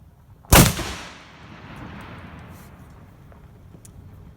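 A CVA Wolf .50 caliber stainless muzzleloader firing a 150-grain magnum charge outdoors: one sharp, loud boom followed by a long rolling echo that fades over several seconds.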